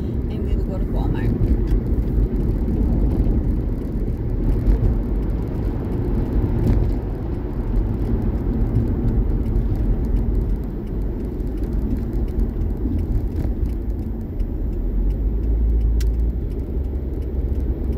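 Road noise from inside a car cruising on a highway: a steady low engine and tyre rumble with wind hiss, constant and fairly loud throughout, with no talking.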